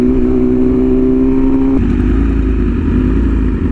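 A BMW S1000RR motorcycle engine drones loud and close while riding, holding a steady pitch before a sudden shift to a rougher, lower roar.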